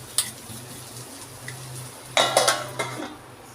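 A metal lid set onto a pan of frying okra on a stove, with a few sharp clinks and a cluster of clattering knocks, over a low steady background hum.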